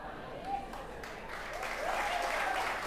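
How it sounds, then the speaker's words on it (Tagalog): Church congregation clapping for Jesus, a soft scattered patter of hands that builds slightly toward the end, faint and somewhat distant. "yung sunod kong palakpak, para kay Jesus na talaga"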